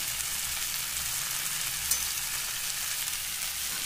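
Turmeric and chili powder frying in a pan give a constant, even sizzle with faint stirring, and no other sounds stand out.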